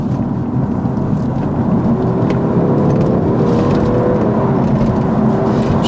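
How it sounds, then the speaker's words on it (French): An Audi A5 driving on a patched road in Québec, a constant low road and tire rumble with engine drone heard from inside the cabin, steady and fairly loud, no talk. "présentement, on roule, puis j'ai l'impression de rouler sur l'autoroute"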